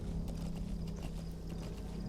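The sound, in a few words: horse hooves in Metal Gear Solid V video game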